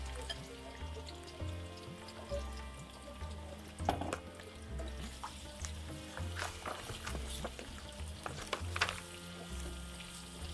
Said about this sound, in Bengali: এখন তেলটা একটু গরম হওয়ার পরে আমরা কাটা পেঁয়াজগুলো দিয়ে দিলাম।